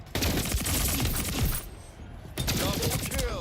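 Shotgun fire in the game Splitgate 2, a dense burst of loud gunshots and impacts, then a brief lull and another volley, with chaotic combat noise throughout.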